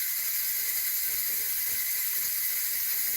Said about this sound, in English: You can hear that steam.